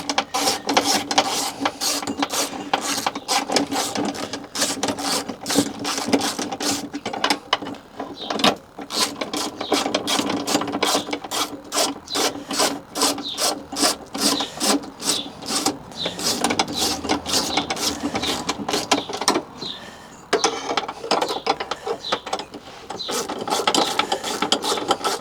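A ratchet clicks steadily and rapidly while winding a Fiat Ducato spare wheel winch, the dense pawl ticks running almost continuously with brief pauses, close up and with no talk.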